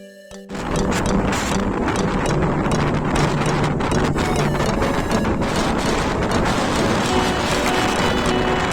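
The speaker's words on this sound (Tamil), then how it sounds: "அவ்வளோ ஃபோர்ஸாக காற்றடிக்குது." Strong, steady wind buffets the microphone on the Ramakkalmedu hilltop, a loud, continuous roar with gusty rumbling that starts abruptly and carries on without a break.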